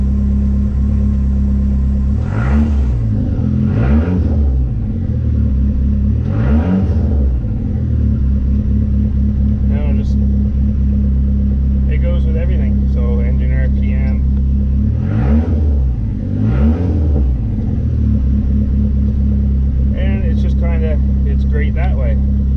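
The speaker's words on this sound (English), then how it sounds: "So I'll give it a rev." Dodge Neon SRT-4 engine idling with a heavy rumble, then revved repeatedly in short rising bursts, loud and close, with faint talk underneath.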